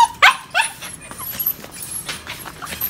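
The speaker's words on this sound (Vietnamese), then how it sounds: "Đây cún đực này, cún đực vạn hổ này nhá." A male brindle tiger-striped Phu Quoc dog lets out a string of short, high yips and whimpers, close by, with faint background noise.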